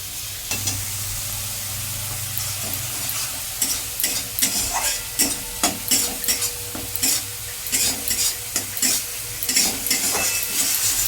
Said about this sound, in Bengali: গুলে রাখা মশলাটা এর মধ্যে দিয়ে দেওয়া হচ্ছে যেটাকে কষানো হবে এখন তেলে একটু ভালো করে